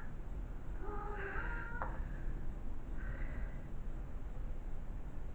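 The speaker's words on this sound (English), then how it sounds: "Meow. Meow." A house cat meows twice, a drawn-out nearby meow followed by a shorter, softer one, over a steady background hum.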